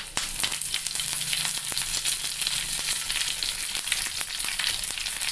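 Curry leaves sizzling vigorously in hot oil for a green tomato thoran, a loud, dense, continuous crackle and spatter with sharp pops scattered throughout.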